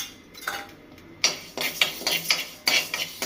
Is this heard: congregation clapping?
no